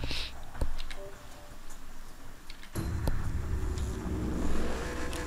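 An old car's engine accelerates in the Split Second Velocity racing game, a close, loud rising drone with a sharp thump partway through, then a steady, heavier roar.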